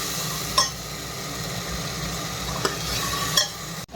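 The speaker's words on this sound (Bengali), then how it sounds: "দিয়ে এখন এটা মশলাটা ভেজে নিই ভালো করে।" Spice powder masala frying in hot oil with a steady broadband sizzle, a few brief scraping stirs of a spatula cutting through at intervals, close and continuous with no talking.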